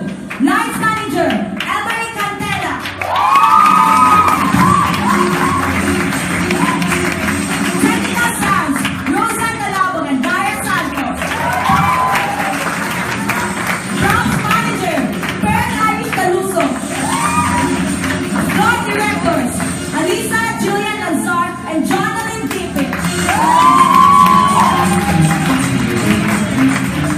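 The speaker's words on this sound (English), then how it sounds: "Please give a round of applause to the backstage crew, night manager," An audience at a student stage production of Hairspray applauds and cheers for the backstage crew, with sustained loud clapping, whoops and shouts that swell toward the end.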